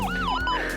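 An ambulance siren wails close and loud, its pitch sweeping up and down in quick cycles through the short stretch, with no voices heard.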